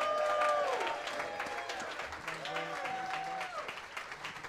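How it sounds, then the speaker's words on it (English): An audience applauds at a jazz club after a performance, a moderate, wash of clapping that continues steadily while a voice speaks over it. "Give him a round of applause."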